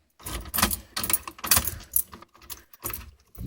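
Car ignition key stuck in the lock of a 1991 Chevy S10 with a 3400 V6 swap, jiggled in a run of metallic jangling bursts, close and fairly loud, with short pauses between.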